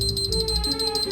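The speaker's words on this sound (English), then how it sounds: "That's the sound of the meter telling me I've got to top it up." Repeated short electronic beeps from a prepay electricity meter needing top-up, in a steady pulsing rhythm, fairly faint, over a low background hum.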